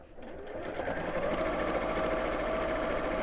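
Sewing machine stitching a seam around several layers of fabric, a steady continuous whir that holds at an even, fairly loud level with no talk over it.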